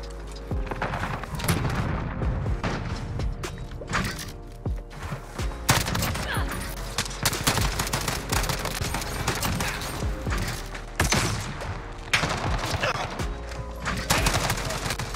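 Dense gunfire in the video game Modern Warfare, with rapid bursts and booming shots crowding a busy, continuous battle mix.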